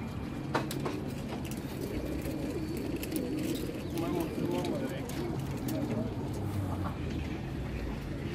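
Pigeons held in transport crates coo softly in the background under a constant low rumble, while someone speaks over them throughout.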